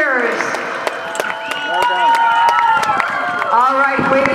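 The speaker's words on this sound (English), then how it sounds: "way to cheer for these ladies" Spectators cheer and clap at the finish line of a women-only 5K road race, a steady crowd roar with scattered whoops and shouts, while an announcer's voice talks over it throughout.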